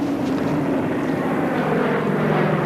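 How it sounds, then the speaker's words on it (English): Coast Guard propeller plane from Juneau droning steadily overhead, a loud continuous engine hum with no voices. "First, a Coast Guard plane from Juneau arrived, dropping supplies"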